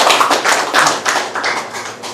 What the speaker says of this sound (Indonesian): itu harus tepuk tangan dulu buat